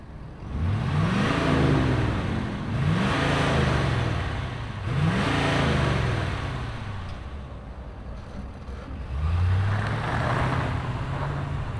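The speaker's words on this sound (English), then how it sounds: "let's fire up this diesel and see it roll" A 2023 Shelby F-250 Super Baja diesel truck revs loudly and nearby, making three sharp rising-and-falling revs early on, settling to an idle, then revving once more toward the end.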